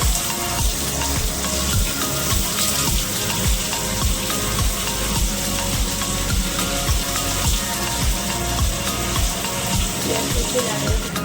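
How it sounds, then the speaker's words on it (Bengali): Onions frying in hot oil in a wok with bay leaves, a steady close sizzle and crackle that carries on without a break and with no talking. "এখানে পেঁয়াজটা লাল লাল করে মা ভেজে নিচ্ছে।"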